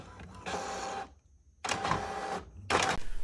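Printer feeding paper and printing a Cricut calibration sheet in close, loud mechanical bursts: two long runs separated by a quiet pause, then a shorter third burst.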